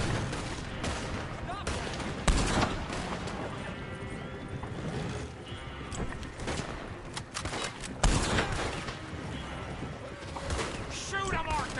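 Gunfire in Red Dead Redemption 2, with several loud rifle and pistol shots cracking at irregular intervals through a noisy firefight, and someone shouting between the shots.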